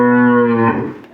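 Dairy cow at a Bangladeshi cattle market giving one loud, close moo that holds steady, then breaks into a rougher, falling tail before fading out, with no talk over it.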